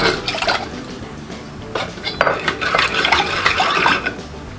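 Water and orange juice poured into a pot of sugar in a home kitchen, a clattering mix of liquid splashing and pot and utensil knocks running steadily for several seconds, close and moderately loud with no talking.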